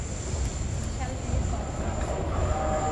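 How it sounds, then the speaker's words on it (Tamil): Steady low rumble of a train rolling into an underground basement station in Switzerland, with faint metallic squeals and a high whine over constant echoing noise; no clear talk. "ஃபைனலாக ட்ரெயின் வந்துருச்சு"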